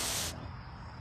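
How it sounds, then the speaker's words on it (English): A short, close burst of hissing spray as neem oil is misted onto cabbage plants in a garden, cutting off quickly into quiet. "Now this week I'm spraying neem oil."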